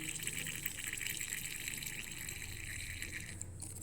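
Coconut oil poured from a container into a small plastic cup, a steady close trickling gush lasting a few seconds, alone without talk.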